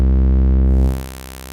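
Arturia PolyBrute synthesizer holding a buzzy, harmonically rich note while its state-variable filter sweeps up from low pass. The bright upper tones open partway through, then the level falls away. No one talks.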